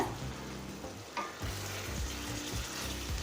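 Chicken gravy cooking in a covered pan with half a cup of water added, a continuous close sizzle and bubbling with a few soft clinks and scrapes, no talking.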